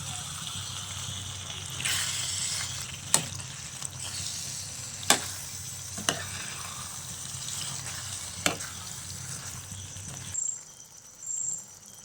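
Prawn roast being stirred in a frying pan with masala, a steady close sizzle with a few sharp clicks of the spoon against the pan, then going quiet near the end.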